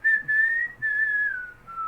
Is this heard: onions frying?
no